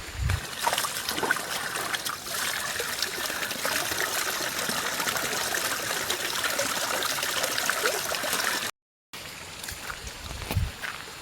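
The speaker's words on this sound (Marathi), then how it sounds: "ह्या आमचा पाण्याचं ठिकाण ज्या जागेवरून आम्ही पाणी वगैरे नेतो घराकडे" Stream water trickles steadily at a village water-collecting spot in the Konkan countryside, a continuous soft gurgle at close range, briefly cut out near the end before resuming.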